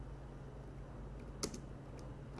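Soft, scattered keystrokes on a computer keyboard, faint and close against a low steady background hum, with one slightly sharper click in the middle and no talking.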